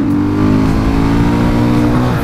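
A KTM 500 EXC motorcycle converted to supermoto revs steadily on a test ride, its engine droning loud and continuous with shifting pitch throughout, no voices over it.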